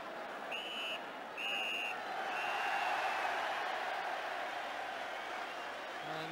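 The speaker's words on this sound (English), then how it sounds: "Appreciation from the home crowd for their team." A home football crowd applauds its team in injury time during a Division Two match between Q.P.R. and Burnley, a steady wash of distant clapping and crowd noise. A few short whistle-like tones cut through early on.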